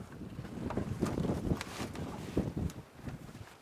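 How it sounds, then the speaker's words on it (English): Gusty wind buffets the microphone in a continuous low roar that surges and eases, loud and close, with no clear voices. "So it's pretty windy today"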